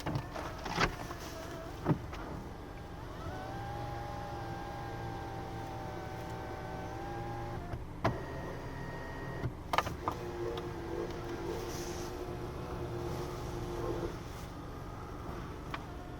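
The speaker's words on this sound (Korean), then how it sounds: "지금 영상으로 보시는 것처럼 썰루프도 문제없이 작동 잘 됐습니다" Inside a facelifted gasoline Mercedes-Benz SUV, the panoramic sunroof motor hums steadily as the roof opens and then closes, with a few soft clicks and knocks in between.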